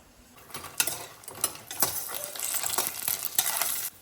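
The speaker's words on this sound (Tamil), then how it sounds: "கொஞ்சம் எண்ணெய் விட்டு ஃபுல்லாக வறுத்தரலாம்" Dried lentil dumplings fry in oil under a steady sizzle, with clattering stirs and scrapes of a spoon against the pan in an uneven rhythm, heard close.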